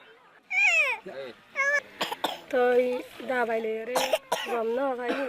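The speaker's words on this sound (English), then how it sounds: "My children have both been coughing and coughing." A child coughs repeatedly in short harsh bursts, close by, mixed with whimpering vocal sounds and throat noises.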